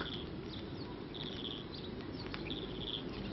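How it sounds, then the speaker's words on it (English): A skylark in open countryside sings a thin, high, warbling song in repeated fluttering phrases. It sounds faint and distant over a steady, low rural hiss. "You can hear a skylark singing."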